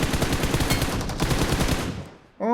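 Rapid automatic gunfire from the PUBG Mobile battle royale game rattles in a dense, fast burst, trails off, then a short tonal game sound cuts in at the end.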